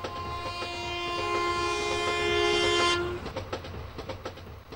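A passing train sounds a long, loud, tonal horn for about three seconds. The horn gives way to rhythmic clickety-clack of the wheels on the rails.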